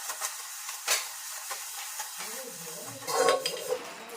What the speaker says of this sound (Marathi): तर आता भांडी पडली ती भांडी घासून घेते